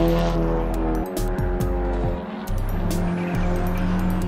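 Renault Clio 4 RS on Cup Sport 2 tyres driven hard around a track lap, the engine revving up and down through quick gear changes with short gaps at each shift, loud and close from inside the car.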